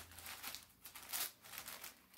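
Plastic packaging around three emergency rain ponchos crinkles as they are handled up close, a soft, continuous rustle with repeated louder crackles.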